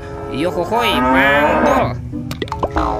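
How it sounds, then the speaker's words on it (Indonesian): A cow moos several times in drawn-out, wavering calls, loud and close, with a cheerful voice speaking alongside and a few short knocks near the end. "Ada hewan sapi mo."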